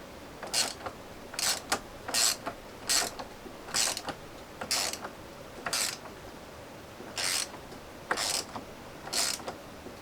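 Bolts being tightened by hand on a hydro setup produce a clicking ratchet mechanism, short bursts of sharp clicks in an irregular series of about a dozen, fairly close and moderately loud, with no talk.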